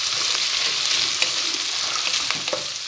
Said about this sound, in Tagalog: hintayin din natin mag-golden brown konti yung tuwal-tuwalya ng baka